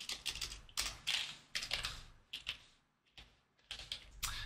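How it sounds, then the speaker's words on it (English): Typing on a computer keyboard, irregular bursts of crisp close key clicks separated by short pauses, quiet overall with no voices. "So let's type in arrival date."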